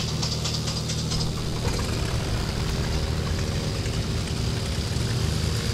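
Propeller engines on a twin in X-Plane 10 start and settle into a loud, rough, continuous idle with knocking vibration and prop whir, steady from start to finish.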